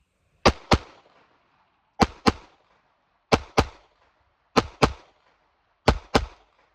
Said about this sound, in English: I'm taking 2 shots for every sight alignment sight picture.